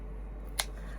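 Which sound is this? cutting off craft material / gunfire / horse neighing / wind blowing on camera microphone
cutting off craft material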